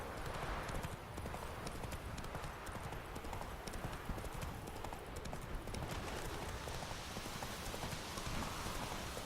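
Roach, Geralt's horse in The Witcher 3 video game, gallops with a steady, dense clip-clop of hooves throughout, mixed with a rain-like hiss and no talking.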